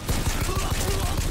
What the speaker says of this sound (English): Wait, who's shooting me?